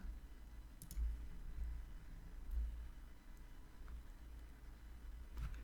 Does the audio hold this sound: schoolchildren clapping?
no